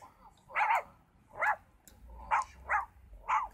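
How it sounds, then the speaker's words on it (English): Dogs bark in five or six short, fairly close yaps spaced irregularly, with quiet pauses between them and faint background hum. "What's up with these dogs?"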